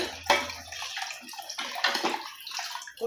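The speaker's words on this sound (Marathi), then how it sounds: "आपण अर्धा लिटर पाणी घ्यायचं आहे आपल्याला।" Half a litre of water poured into a pan while cooking a fasting kadhi, a broad splashing pour that runs for about a second and then turns into lighter sloshing and trickling close by.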